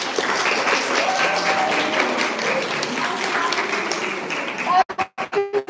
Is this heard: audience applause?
yes